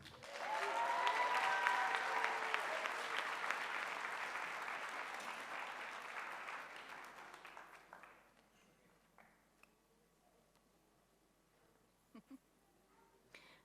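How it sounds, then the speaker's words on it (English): Audience applause at a high school graduation ceremony, a dense steady clapping that swells loud for about eight seconds and then cuts off, leaving a quiet hall with a few scattered claps. "I'm sitting back here clapping"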